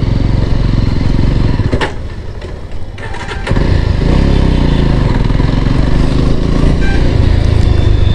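A Jawa motorcycle engine starts up and rides off, its exhaust note loud and close, dipping briefly before the revs build into a steady, strong drone as it pulls away.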